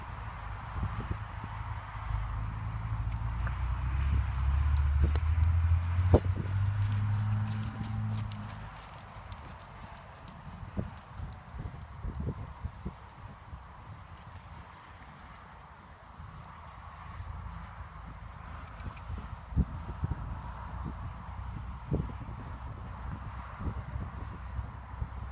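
A horse walks with rhythmic clip-clopping hooves, louder at first over a low rumble, then continuing in scattered, fainter steps on a farm, with occasional quiet talk between two women.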